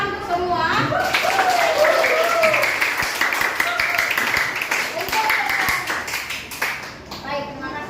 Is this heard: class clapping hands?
yes